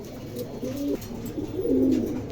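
A new adult female pigeon coos in two low, throaty phrases, close and fairly soft, with faint room noise around it.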